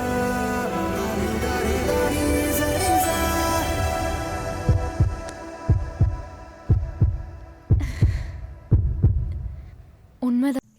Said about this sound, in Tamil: சரி, உங்க ஹார்ட் பீட் நான் கேட்கலாமா?